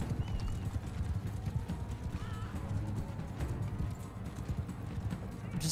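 Horses in the Mount & Blade II Bannerlord video game clop steadily across the ground amid a clash of battle, with hooves, a whinny and scattered crowd noise mixed at moderate level.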